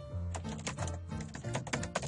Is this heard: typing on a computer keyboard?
yes